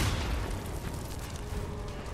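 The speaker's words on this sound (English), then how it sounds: "A grenade." Grenade explosion in Death Stranding: a loud, dense boom at the start that rolls into a long, rumbling broadband wash fading only slightly over two seconds, with no speech.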